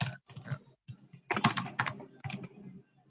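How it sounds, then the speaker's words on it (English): Typing on a computer keyboard during an online information day session, quiet, close bursts of rapid key clicks with brief pauses between runs. "So somebody's typing, please, if you can."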